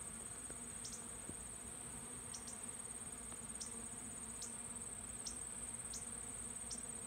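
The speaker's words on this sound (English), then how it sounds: "You got hundreds of bees coming in and out of the hive" A steady, faint buzz of many honey bees around a hive, with a high insect drone throughout and a few individual bees zipping past nearby.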